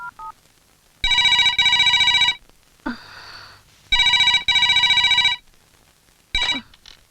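A telephone rings after a number is dialed: two loud, bright electronic ring bursts, each a doubled trill, separated by pauses, heard alone with no talk over them.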